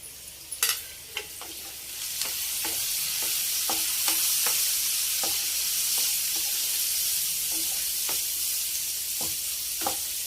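Small fish go into a hot pan of oil for a tamarind-leaf fish curry, setting off a loud steady sizzle, with scattered clicks and taps of a spoon stirring close by.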